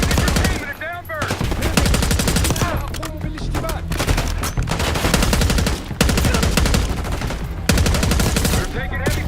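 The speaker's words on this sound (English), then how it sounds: "We're taking heavy fire at the helo." Heavy automatic gunfire in Call of Duty Black Ops 6, loud sustained bursts of rapid shots rattling almost without a break, layered with battle noise and a few short gaps.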